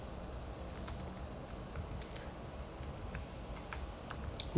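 Sentence typed on a computer keyboard, a steady run of light, close key clicks with no talking.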